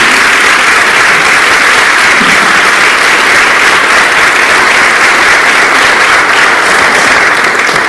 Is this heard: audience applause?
yes